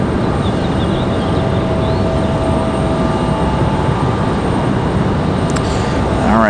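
A Southwest Boeing 737 MAX 8 airliner at Raleigh-Durham airport makes a loud, steady roar of jet engines that rises at the end, with people talking underneath.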